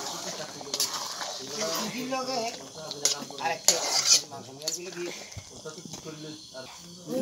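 A spoon scrapes and clatters against a metal pot while a village chicken meat curry with garam masala is stirred, giving repeated close metallic clinks. Someone talks over the stirring.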